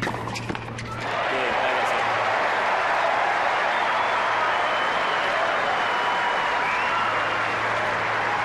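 Sustained crowd applause fills a tennis stadium at the Indian Wells 2004 semifinal between Federer and Agassi, swelling after about a second and holding loud and steady to the end, with a brief voice at the start.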